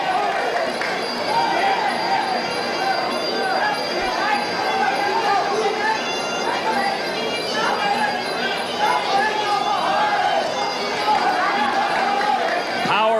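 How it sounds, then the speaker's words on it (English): A kickboxing bout's crowd keeps up a continuous roar and chatter throughout, with a commentator talking over the noise. "this crowd is really into it"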